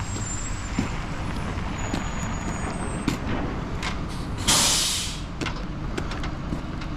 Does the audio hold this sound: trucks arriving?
yes